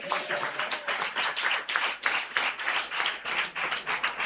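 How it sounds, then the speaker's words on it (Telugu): An audience at a church sermon on the temple veil claps in steady, dense applause for about four seconds, a crowd's hands clapping at moderate loudness with no talking. "చప్పట్లు కొట్టగలరు ఒకసారి?"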